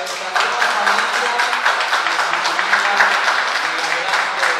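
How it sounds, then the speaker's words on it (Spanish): Wedding guests applaud a newly married couple during a church ceremony, a steady dense patter of many hands clapping at moderate distance for several seconds without a break. "Fuertes los aplausos para esta nueva familia"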